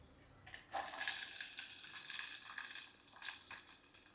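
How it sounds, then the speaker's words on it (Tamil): Onions and green chillies drop into hot oil in a clay pot, setting off a sudden loud hiss that settles into a steady, close-up frying sizzle. "நம்ம இந்த வெங்காயமும் பச்சை மிளகாயும் போட்டுக்கலாம்"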